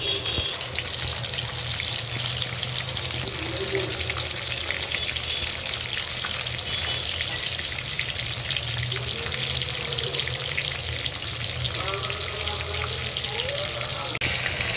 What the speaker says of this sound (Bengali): এই যে আমার মাছ ভাজিগুলো করা হয়ে গেছে